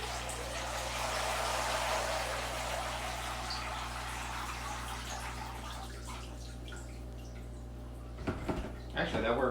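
Water drains slowly from a container, a continuous hissing, gurgling rush that fades over time before a few louder splashes and knocks at the end.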